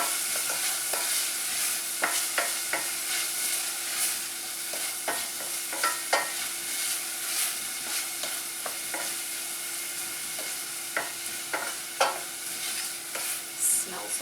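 Onions, garlic and pepper sautéing in a pan, a steady close hiss of frying with repeated scraping and tapping of a utensil stirring, no talk.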